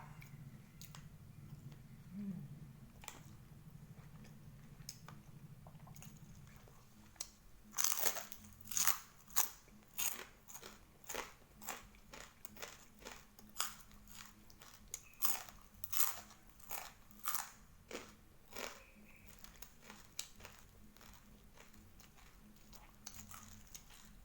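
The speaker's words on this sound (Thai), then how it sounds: "เคี้ยวกรอบๆนะคะ" Crunchy chewing of fried pork cracklings and a large fried tilapia, eaten close up with a pause at first, then a long run of loud, crisp bites and crackles that taper off toward the end.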